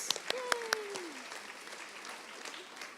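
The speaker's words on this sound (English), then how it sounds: "One last round of applause" Audience applause at a middle school awards ceremony, a few sharp claps at the start settling into a fairly faint, steady patter of clapping with a tonal whistle-like sweep early on.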